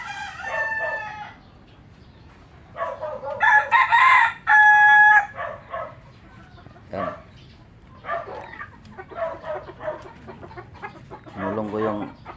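Backyard chickens after a scuffle: a rooster crows loudly twice, with scattered clucking and a dog barking among the flock, and someone speaks briefly.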